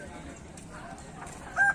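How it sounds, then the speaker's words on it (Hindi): A desi rooster clucks and calls among the steady murmur of a busy village poultry market, with a short, louder crowing burst near the end over the background voices. "ये देखिए मुर्गा"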